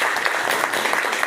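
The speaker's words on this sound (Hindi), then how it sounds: "तो एक शानदार तालियां" Audience applause at a business training event, a steady crowd clapping that fills the short moment at a constant level with no talk over it.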